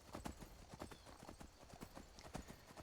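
Horse hooves gallop in Skyrim, a steady rhythmic clip-clop of repeated sharp strikes running throughout at moderate loudness, with faint game ambience beneath.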